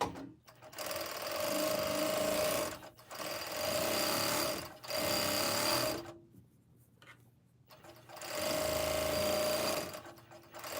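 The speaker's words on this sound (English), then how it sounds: "I'm just gonna serge it, finish it like that." A serger overlocks the hem edge of a backless t-shirt in several loud whirring runs of a second or two each, stopping and starting with short quiet gaps between, close up.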